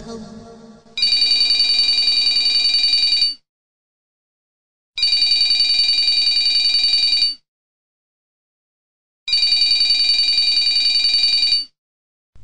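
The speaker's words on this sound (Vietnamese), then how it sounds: "tiếng chuông điện thoại dồn dập vang lên" A telephone bell rings in three long bursts separated by short silences, loud and close with a steady electronic trill.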